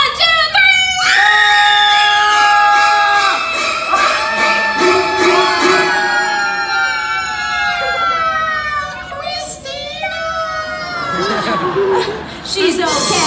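An audience at a Universal Studios Hollywood special effects stage show screams together on cue, a loud sustained burst of many voices with shrieks and cries, then fades into scattered crowd noise.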